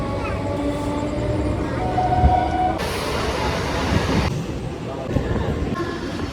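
A train rumbles into Naihati station on a railway platform, a steady close mechanical roar with shifting rattles and a brief tonal squeal, while people talk nearby.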